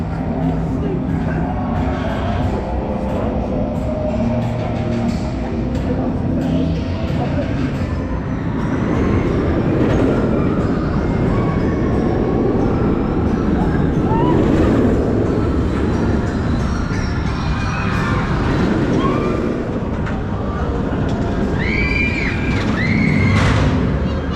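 Smiler roller coaster at Alton Towers during a night ride at Scarefest, heard as a continuous loud rumble of train wheels on track with rattling and squealing, swelling louder in the second half, with crowd noise and occasional voices.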